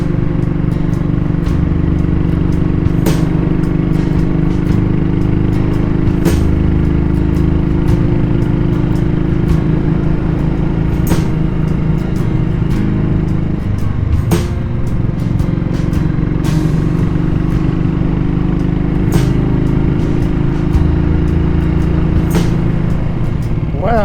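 A vintage motorcycle engine labours steadily uphill in third gear on a country road, a continuous close, loud drone with brief sharp pops and a slight dip around mid-clip.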